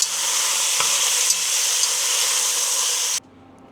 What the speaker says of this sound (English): I've got a tablespoon of avocado oil in this pot, and let's get a good sear, some good color on these shanks.